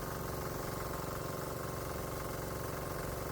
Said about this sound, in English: Yep, the diesel kicker engine is fully functional and that's good news.